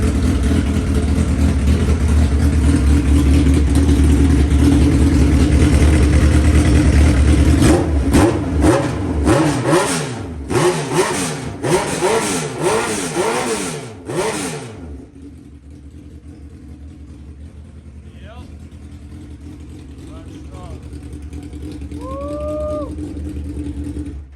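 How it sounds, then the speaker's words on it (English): A wrecked Suzuki Hayabusa sport bike with 18,000 miles idles loudly, then revs sharply in a series of quick throttle blips before the engine cuts out, leaving near silence with a few faint distant sounds. "sound of a crotch rocket Busa, it's something else"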